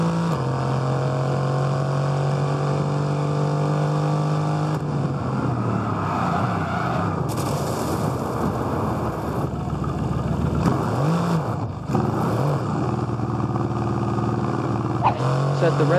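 Formula 1 race car engine roaring in the F1 22 racing game, played on an AOKZOE AMD 6800U handheld, loud and continuous with rising and falling pitch sweeps through gear changes and revs.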